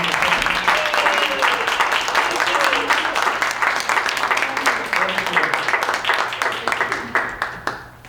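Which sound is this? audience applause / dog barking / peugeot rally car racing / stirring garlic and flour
audience applause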